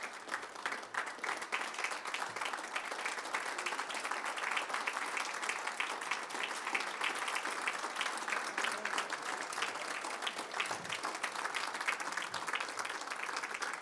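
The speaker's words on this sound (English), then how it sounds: "How about a round of applause for the Army Sports Hall of Fame class of 2017?" A large crowd at the Army Sports Hall of Fame ceremony applauds steadily and loudly, a dense wash of clapping that holds for the whole stretch without pause.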